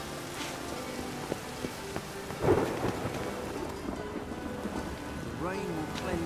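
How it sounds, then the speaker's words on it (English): Rain and thunder in The Witcher 3 video game: a constant rain hiss with a low rumbling thunder roll midway, plus faint background game voices. "The rain will cleanse the city streets of filth."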